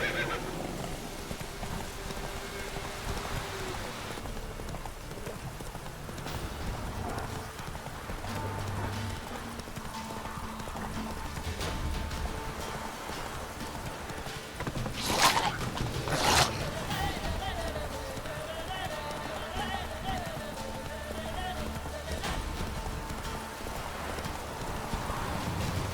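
A horse gallops with rhythmic clip-clop hoofbeats and gives a sharp neigh midway, heard in The Witcher 3 video game over a continuous game soundscape, steady and fairly loud throughout.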